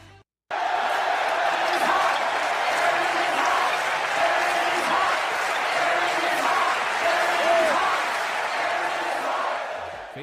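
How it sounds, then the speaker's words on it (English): A sold-out crowd at Little Caesars Arena in Detroit cheers and chants during a game. A dense, steady roar of voices carries rhythmic chanting and scattered whoops, loud and sustained for the whole stretch. "Fans at the sold-out Little Caesars Arena in Detroit chanting "Aaron is hot," cheering"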